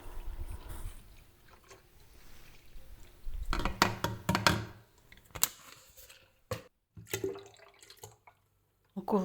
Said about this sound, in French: on rajoute le lait.